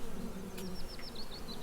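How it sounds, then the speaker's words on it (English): Honey bees buzz at a hive entrance, a dense, close, continuous hum with individual bees droning past in short rising and falling swoops. "There are still guard bees in there, checking everything that comes in to make sure that there are bees from that hive."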